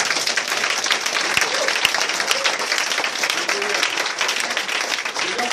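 A church congregation applauds and cheers the Lord in steady, dense clapping that stays loud and even throughout, with voices mixed into the crowd noise.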